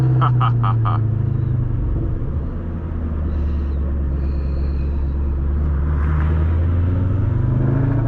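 Shelby Cobra fitted with new headers, downshifting on a drive: a steady, loud, deep engine rumble with rising and falling revs throughout, a brief burst of crackle early on and a close, continuous drone.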